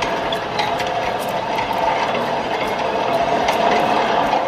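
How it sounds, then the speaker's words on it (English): A 1939 Russian 37mm anti-aircraft gun mount is swiveled around, giving a continuous close grinding of ratcheting gears and clattering metal mechanism. "a 1939 37mm Russian anti-aircraft machine gun. Thing is ridiculous and ridiculously fun to swivel around."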